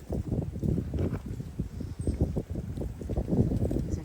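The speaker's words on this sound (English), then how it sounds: "It's very windy today." Gusty wind buffets the microphone in uneven rumbling bursts, loud and close, with no voices.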